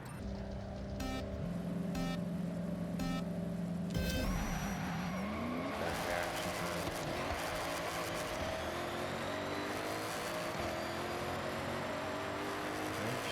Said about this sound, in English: Spinning the wheels.